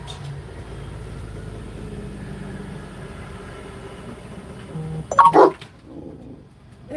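A single short, loud dog bark breaks through the low engine idle of a truck coming down the road, followed by quieter rumbling.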